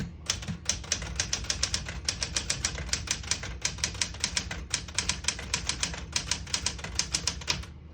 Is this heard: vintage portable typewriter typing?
yes